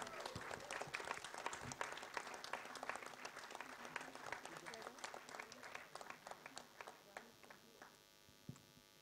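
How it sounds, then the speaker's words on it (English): Audience applause at a film trailer launch event, scattered individual claps that are sharp and fairly close, thinning out toward the end, with a faint electrical hum in the background. "can we have a round of applause for all of them?"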